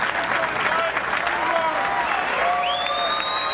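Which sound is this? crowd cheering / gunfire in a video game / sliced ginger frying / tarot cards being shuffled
crowd cheering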